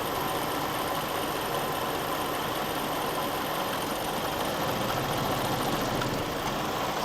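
A Jeep engine idles roughly with a dense, steady rattling drone that has a knocking edge, heard close and continuous throughout without any speech.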